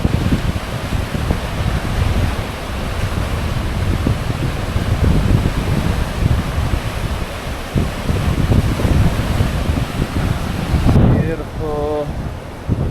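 Strong wind roars across a windy Polo Beach on Maui, buffeting the microphone continuously with the wash of ocean surf mixed in, loud and steady until a brief voice-like sound near the end.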